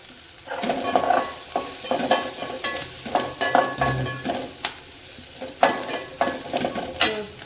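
Vegetables for a Tamil sambar with bitter gourd, banana flower and okra sautéing in a pan, with repeated scraping stirs and a steady sizzle running underneath, close and moderately loud throughout.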